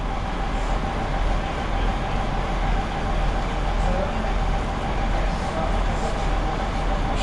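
A heritage diesel locomotive idles at Loughborough station during an autumn diesel gala on the Great Central Railway, a steady loud engine rumble and hum that holds unchanged throughout.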